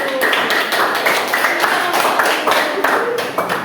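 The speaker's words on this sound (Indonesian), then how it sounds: "sebelum itu kita beri tepuk tangan dulu" Students in a classroom clap their hands together in a steady burst of applause, dense and fairly loud throughout, with voices mixed in.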